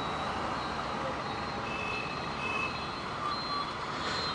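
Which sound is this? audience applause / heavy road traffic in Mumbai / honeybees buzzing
heavy road traffic in Mumbai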